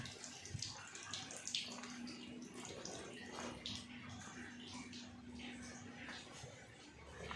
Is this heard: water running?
yes